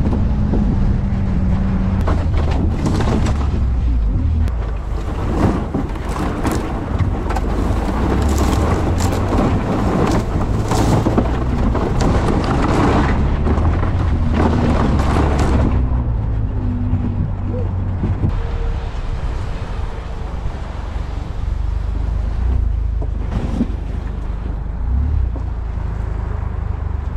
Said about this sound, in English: It's an all-terrain vehicle.